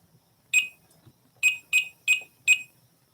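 An electronic alarm beeps in short, sharp bursts: one lone beep, a pause, then four evenly spaced beeps. The tone is fairly loud and close in a quiet room, with faint low rumbling underneath.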